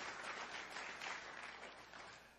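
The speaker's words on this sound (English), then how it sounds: "Let's give a round of applause and thankfulness to those who are serving." Church congregation applauding during a worship service, a steady, dense wash of clapping from many hands, faint and distant throughout.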